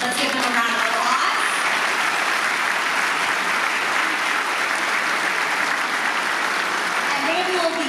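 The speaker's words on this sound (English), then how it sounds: "Let's give them a round of applause." An audience at a Red Cross Heroes Breakfast applauds high school students and Red Cross volunteers with steady, sustained clapping from a large crowd that lasts about eight seconds, while voices are faintly heard in places.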